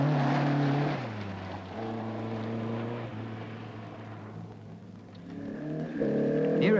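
A Toyota Trueno rally car at the 1978 Castrol International Rally of Canberra, its engine revving and changing pitch as it works through a corner, dropping briefly in the middle before climbing again, heard from a moderate distance.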